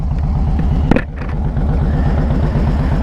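A 2013 Harley-Davidson Street Glide with the 103 engine idles nearby with a loud, lumpy, steady pulsing rumble and a brief blip partway through, with no talking.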